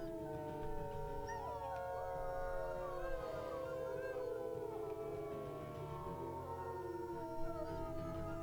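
A wolf pack howls together in the WolfQuest video game, several long, overlapping wavering howls rising and falling over a steady low background hum.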